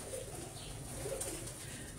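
Pigeons at a breeder's loft coo in a low, steady murmur under a constant noisy background, with no clear individual calls standing out.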